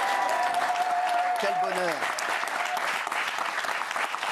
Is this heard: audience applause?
yes